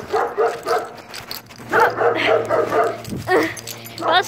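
A dog being trained barks and yips in several short bursts, close and fairly loud, with whimpering sounds between them over a low background hum.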